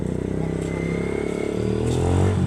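A motorcycle engine runs steadily nearby with a low, throbbing hum and faint rattling, slightly rising toward the end, no talk over it.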